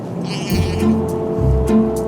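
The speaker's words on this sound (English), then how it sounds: "Ah, sheep." Sheep bleating outdoors on open land on the Isle of Harris, Scotland, with two or three short, wavering bleats from nearby over low wind noise.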